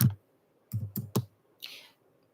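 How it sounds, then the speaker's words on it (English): Someone types on a computer keyboard with a few sharp, separate key clicks in short bursts and a brief softer rustle, close by in a quiet room with no talking. "I'm typing something in"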